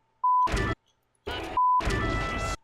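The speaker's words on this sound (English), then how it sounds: "Ah, funny beep." Two short electronic beeps, each a steady pure tone, separated by bursts of noisy rustling sound; clear and close.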